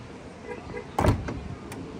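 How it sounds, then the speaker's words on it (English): The power trunk lid of a Mercedes S550 closes after a foot swing under the bumper: a brief motor hum, then a solid thunk as the lid latches shut, followed by a faint click. "the best thing about this trunk, you swing your foot underneath and it closes"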